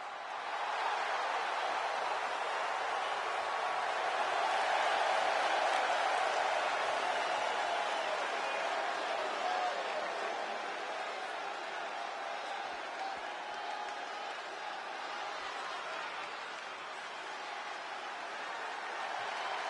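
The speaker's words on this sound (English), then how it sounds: "The crowd is on its feet." Wrestling arena crowd in WWE 2K26 cheering and applauding in a continuous roar that swells early, then eases slightly and holds steady for the remainder, with no talk over it.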